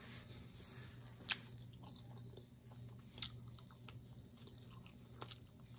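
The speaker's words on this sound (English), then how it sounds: "Ooh, that chicken thick. We be chewing for a minute." Someone chews a Zaxby's Kickin' Chicken sandwich: quiet, close mouth sounds with a few sharp crunchy bites standing out over soft, steady mastication.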